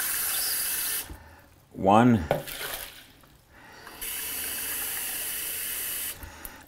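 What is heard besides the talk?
water running from a tap through a water filter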